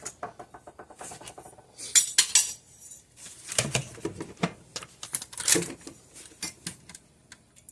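A scoop digs into flour and is knocked against a bowl, producing a series of irregular clinks, taps and soft scrapes, close by and fairly quiet, with no talking.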